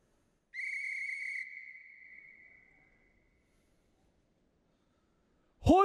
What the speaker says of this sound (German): Ich stelle mich mal hier hin und pfeife nochmal.